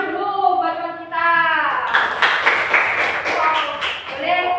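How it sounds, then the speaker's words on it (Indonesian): Schoolchildren in a classroom clap for a classmate, a ragged burst of small hands after a teacher's speech, with tonal voices and chatter around the claps. "Udah sekarang kita kasih tepuk tangan dulu buat teman kita."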